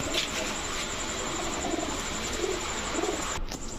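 Old-breed pigeons coo in a loft, with faint, low throaty calls repeating every half second or so over a steady hiss of background noise.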